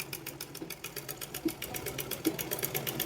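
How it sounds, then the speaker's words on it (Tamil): A powered sewing machine runs steadily while stitching a pillow cover, its needle chattering in a fast, even rhythm up close with no voices. "இப்போ பவர் மிஷினா அதுக்கு ஒரு லாக் இருக்கும், அமுத்தி விட்டால் பேக் ஸ்டிச் விழுகும்."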